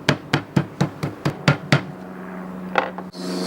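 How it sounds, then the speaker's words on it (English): Seven sharp, evenly spaced thuds of a meat mallet pounding schnitzel meat flat on a board, followed by a quieter knock and a short scrape. "and then you hammer it again."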